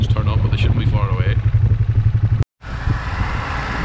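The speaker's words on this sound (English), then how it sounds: "This tractor here just has a front wheel block on, just for testing the dribble bar" A tractor with a front wheel block, testing a new slurry dribble bar, gives a steady, close, low engine drone under some talking, then a short cut and a louder, rougher continuation.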